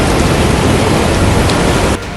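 Heavy rain pours steadily during flooding in Dindori, Madhya Pradesh, a dense, loud hiss of downpour filling the whole clip before easing slightly at the very end.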